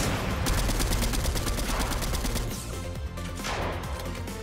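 Dense, loud gunfire fills a Marvel-themed battle royale match, with rapid bursts of shots running almost continuously, briefly easing before another volley.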